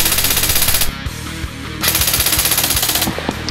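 An AEX Warfighter DMR airsoft gun fires rapid bursts at about 1,000 rounds per minute, close and loud, in two long strings split by a brief pause, then shorter bursts at the end.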